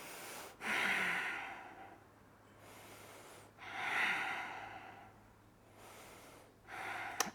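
Slow, deep breaths held in a warrior one yoga pose, three full inhale-exhale cycles drawn audibly through the nose, close and quiet with pauses between each breath.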